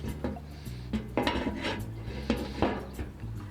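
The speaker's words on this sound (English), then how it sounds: "I'll just plonk the lid on so we don't get a spike." A metal lid set onto an ugly drum smoker cooking pork spare ribs, giving several close clanks and scrapes of metal against the steel drum over a low steady background.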